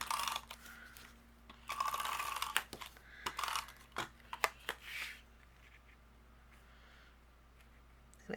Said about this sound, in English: we're just going to tape it down with the tape runner